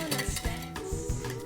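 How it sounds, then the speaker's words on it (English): A whisk beats cream and sugar toward stiff peaks for a French chocolate mousse, sending out quick irregular taps and clinks against the bowl at close range with no talking. "Add the sugar to the cream and continue to whisk until we achieve a stiff bake"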